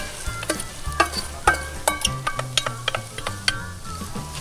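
Leek sizzles in a few splashes of olive and rapeseed oil in a Petromax FB30 cast-iron pan, a close steady frying hiss punctuated by repeated clicks and scrapes of stirring.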